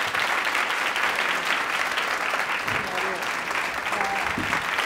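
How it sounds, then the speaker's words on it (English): Audience applause for Tadashi Suzuki at an artist talk, steady dense clapping from a crowd throughout, fairly loud and unbroken, with faint voices murmuring underneath. "But now a big applause for Tadashi Suzuki."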